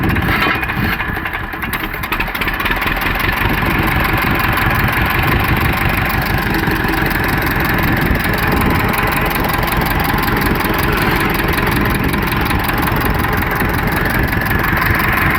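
Ursus C-325 tractor engine running in during break-in after a general overhaul, a steady, loud, close rumble that holds an even idle-like tone throughout with no talk.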